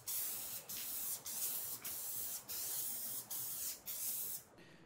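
Spray can of adhesive misting onto a paper prop newspaper, a series of about eight short hissing bursts in an even rhythm, close and fairly quiet, each separated by a brief pause.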